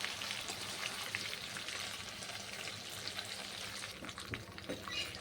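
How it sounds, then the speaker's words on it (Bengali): Chicken pieces fry gently in oil for Bengali butter chicken, a soft continuous sizzle and crackle with occasional faint pops, quiet and without speech. "ওই একই তেলের মধ্যে আমি বাকি চিকেনগুলো সব ভেজে নিচ্ছি আস্তে আস্তে।"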